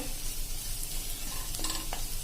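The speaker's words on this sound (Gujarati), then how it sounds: "કૂક કરી લેશું આ રીતે હલાવીને" Sev tomato curry cooking in a pan is stirred, sizzling and frying steadily while a utensil scrapes and clinks against the pan a few times.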